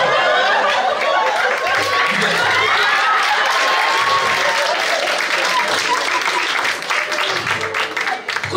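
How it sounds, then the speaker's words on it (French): Loud, close audience applause at a preacher's comedic retelling of the prodigal son, many hands clapping in a dense sustained burst, with laughter and chatter mixed in and a voice talking over it toward the end. "Pourquoi vous applaudissez?"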